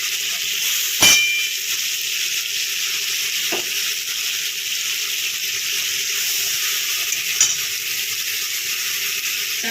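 Fish sizzle and fry in a pan of hot oil, a loud, steady crackling hiss broken by three sharp utensil clanks against the pan.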